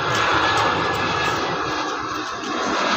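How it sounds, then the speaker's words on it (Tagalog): A propeller airplane flies overhead, a loud, steady engine drone filling the whole stretch and easing slightly toward the end. "Pinapabidyohan yung aeroplano."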